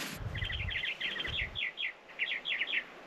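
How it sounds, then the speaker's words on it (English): Several small birds chirp and tweet in quick, bright bursts at a cold desert backcountry campsite in Joshua Tree, with rapid clustered calls followed by sparser ones, moderately close against quiet wind noise. "Those birds are loud."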